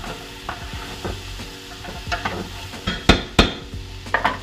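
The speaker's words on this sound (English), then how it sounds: "And then just sweat all this down." Vegetables with onions sweat in a hot pan, a soft continuous sizzle under repeated scraping and clinking strokes of a utensil stirring against the pan, the knocks growing sharper and louder near the end.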